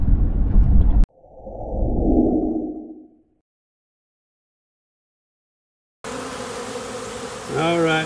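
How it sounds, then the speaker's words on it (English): A honeybee swarm that fell to the ground gives a dense, droning buzz that swells and fades over about two seconds between abrupt cuts, followed by silence and then other background sound. "the bees were in a ball here"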